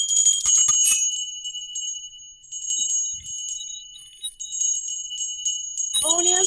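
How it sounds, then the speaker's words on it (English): Many small hand bells jingle and tinkle together in uneven bursts, pausing briefly before ringing again, with a voice coming in at the end. "Now, everyone get your bells."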